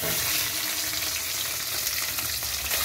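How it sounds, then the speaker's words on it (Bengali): Rohu fish roe fries in hot oil left from frying potatoes, with a steady, loud crackling sizzle and no voices. "এই আলু ভাজার পরে যে তেলটা রয়েছে এর মধ্যে আমি মাছের ডিমটা দিয়ে দেব। মাছের ডিমটা ভেজে নেব"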